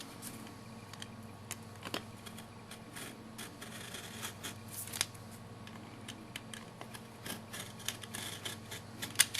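Scissors snipping freehand through wallpaper for a miniature building, a series of small crisp cuts and paper rustles scattered at an uneven pace, close and fairly quiet, with no talk.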